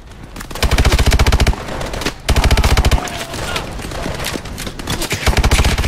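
Automatic gunfire in the video game Call of Duty: Advanced Warfare: loud, rapid bursts of machine-gun fire with short gaps, layered with more distant shots and battle ambience.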